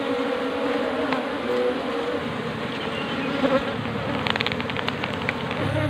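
Honey bees swarm actively around their hive, giving off a dense, continuous buzzing drone with a few louder passes close to the microphone.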